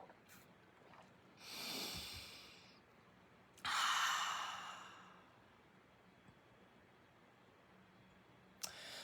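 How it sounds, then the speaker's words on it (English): A slow, deep inhalation taken during a guided healing meditation, a soft airy rush of breath close by in a quiet room, followed later by a second, longer breath. "Deep breath in."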